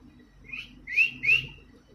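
A pet parrot whistles three clear rising notes, the last two louder and close, over a quiet indoor background.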